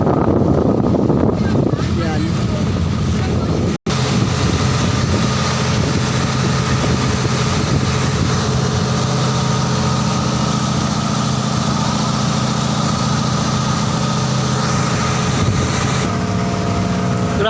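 Steady low rumble of many boat engines idling together throughout, a chorus of motors humming, with people talking faintly in the background.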